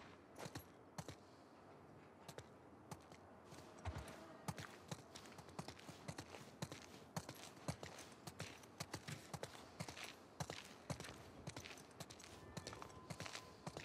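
Horses walk along a patrol route in The Last of Us Part II, their hooves clip-clopping in a steady, uneven rhythm of sharp knocks over a soft outdoor ambience throughout.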